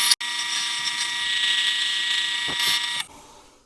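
A thin chisel squares up a workpiece spinning on a lathe, a steady loud high whine and scraping hiss from the turning wood that holds for about three seconds before cutting off abruptly.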